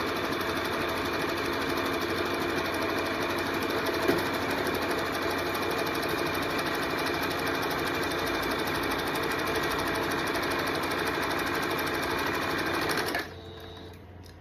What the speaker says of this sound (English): I'm going to continue to sew.